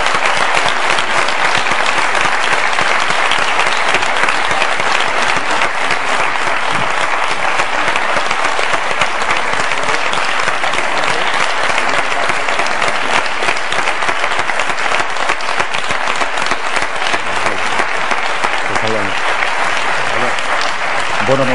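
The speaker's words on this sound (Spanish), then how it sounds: "un aplauso para los candidatos" Sustained applause from a large audience at a televised election debate, dense and continuous clapping that holds steady throughout, with a few voices surfacing near the end.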